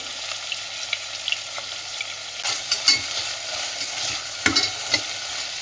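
Capsicum and carrot sizzle steadily in hot oil in a pan. A spatula scrapes and stirs through them with several sharper clatters, close and fairly loud, and no one speaks.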